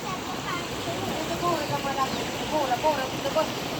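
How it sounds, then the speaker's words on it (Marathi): Floodwater pours forcefully from a large pipe near a tree, covering steps and forming a swirling eddy, with a steady rushing roar. A person talks over the flow. "बघा आता केवढं मोठं पाणी आलंय पास तिकडून आले ते झाड आहे ना तिकडून तिथले मोठं नळ असतंय तिथूनच येतं ते पाणी"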